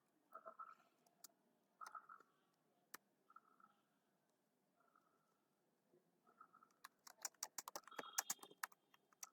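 Keystrokes on a computer keyboard, a few scattered soft taps followed by a quicker, louder burst of typing near the end, close by in a quiet room.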